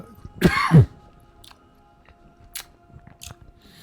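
A loud, close throat clearing and cough near the start, followed by a few faint clicks and small mouth sounds in a quiet room.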